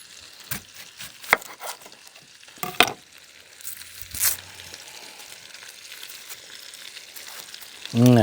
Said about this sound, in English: We're going to start off by browning the bacon pieces.